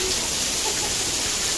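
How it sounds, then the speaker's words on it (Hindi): Rain falls during an outdoor engagement ceremony in India, a steady, loud wash of hissing drops with no break. "बारिश हो रहा है।"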